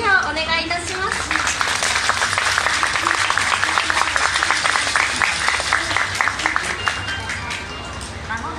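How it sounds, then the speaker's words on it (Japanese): Audience applause at a departure ceremony marking the start of service for JR Shikoku's new Series 2700 limited express diesel train "Nanpu": dense, steady clapping from a sizeable crowd, loud and continuous throughout, with a low rumble underneath. "の盛大な拍手をお願いいたします"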